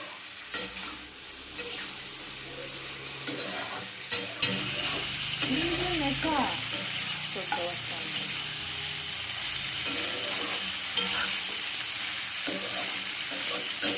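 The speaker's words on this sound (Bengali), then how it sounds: "এরপরে এটাকে আমি ভালো করে নাড়বো। এটা ড্রাই চিলি চিকেন হচ্ছে" Dry chilli chicken is stirred in a hot pan, with a continuous sizzle of frying under scraping and clinking spoon strokes. The stirring is close and moderately loud, with a few sharper knocks.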